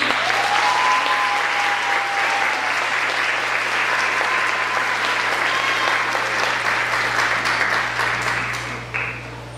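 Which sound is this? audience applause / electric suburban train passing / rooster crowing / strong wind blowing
audience applause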